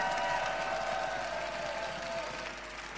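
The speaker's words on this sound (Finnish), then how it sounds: "Come on, clap for Jesus!" A church congregation claps together during a revival service, a dense, steady wash of applause that gradually fades toward the end, heard fairly softly.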